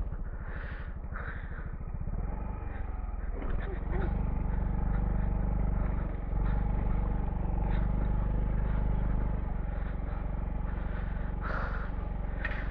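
Motorcycle riding along a muddy jungle trail, its engine a steady low drone with clattering and slipping sounds, heard under ongoing talk from the riders.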